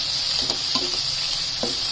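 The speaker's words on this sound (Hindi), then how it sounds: "अब हम इसमें टोमेटो डाल देंगे।" Roughly chopped tomatoes hit a hot pan for a matar mushroom curry, giving a constant bright sizzle with several light stirring clicks scattered through, no voices.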